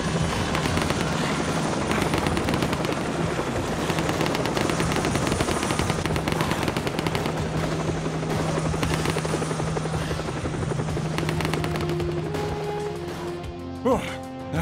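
Helicopter rotor thrum in a zombie survival video game, loud and steady throughout, with bursts of gunfire layered over it and a few short tonal game effects near the end.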